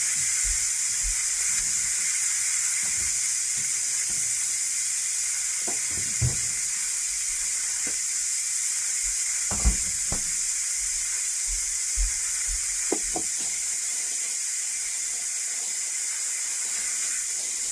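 Steam hissing steadily from a pressure cooker holding vegetable soup with ground chicken, a continuous high bright wash with occasional soft knocks and clicks beneath, no talking.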